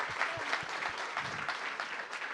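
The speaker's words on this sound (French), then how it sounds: "on peut applaudir" An audience applauds at a discussion event on inclusion and diversity in sport and the outdoors, producing a steady, dense wash of clapping at moderate distance, fairly soft, with a few voices faintly mixed in.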